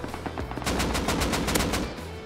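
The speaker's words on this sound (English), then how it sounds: "Oh, are you shooting AK?" AK rifle fired in the video game Rust, a rapid burst of about a dozen loud, sharp shots in quick rhythm, close and alone.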